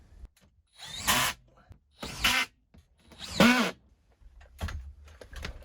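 A power drill drives screws through drywall sheets into wooden strapping in four separate bursts, each a loud whirring run lasting about half a second, with short gaps and a few softer clicks in between.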